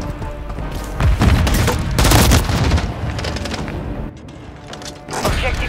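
Loud, dense Call of Duty Modern Warfare 3 battle on the Shoothouse map, with a frag grenade blast among heavy gunfire. Booming bursts land around 1 and 2 seconds, and firing continues after a brief dip.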